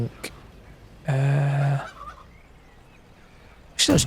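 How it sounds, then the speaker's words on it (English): Fowl in a video game sound off with a loud, warbling gobble-like call lasting about a second, followed by a quieter stretch and the start of another call at the end. No one speaks. "wish those chickens would shut up"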